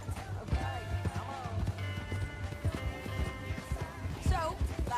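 Horse hooves clip-clopping at a brisk, regular pace in the Red Dead Redemption 2 video game, close and continuous, with voices talking over the galloping.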